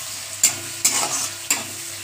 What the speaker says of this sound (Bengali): দুটো শুকনো লঙ্কা দিয়ে দিচ্ছি তেলের মধ্যে পেঁয়াজের সাথে